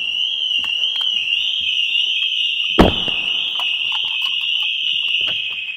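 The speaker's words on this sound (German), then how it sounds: "Passiert Folgendes, Alarm geht an." A retrofitted factory alarm on a Mercedes sounds a loud, steady high-pitched electronic tone, continuous and close, with a sharp knock partway through.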